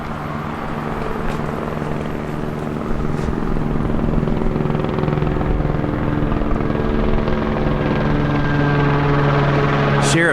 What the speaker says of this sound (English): Sheriff's helicopter overhead,